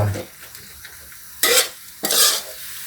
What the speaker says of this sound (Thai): เราจะคั่วเนื้อให้สุกเลยนะครับ